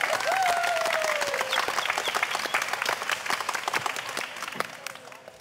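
A theatre audience breaks into sustained applause for performers on stage, a dense wash of clapping that starts full and gradually thins into scattered claps, with a brief whistle near the start.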